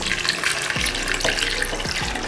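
About a litre of water pours into a pot holding large chunks of leek and celery, a steady splashing stream with gurgling bursts, close and continuous.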